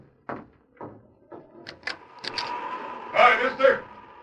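A door opens in a snowbound Western radio drama. A few sharp knocks or footsteps come first, then a creak and rattle as voices start talking over it.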